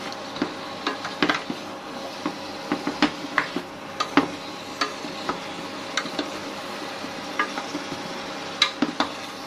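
Mixed vegetables stirred in a cooking pan, with a steady run of light scraping clicks and taps from the utensil against the pan over a soft background hiss, close and fairly quiet with no talking.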